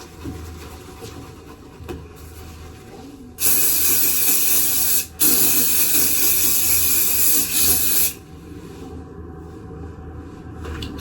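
Hairspray hisses onto hair in two close, steady bursts of about two and three seconds, separated by a brief pause, against a quiet room.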